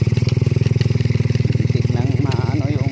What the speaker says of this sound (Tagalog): Hindi nang maano yung motor natin na nakain yung alikabok sa karburador, kaya bumulo-bulo